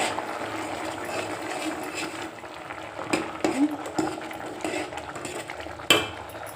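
A spoon stirs and mixes food in a metal pot while preparing a Shivaratri offering, with faint scraping and soft clinks and a few sharper knocks against the pot, fairly quiet and close.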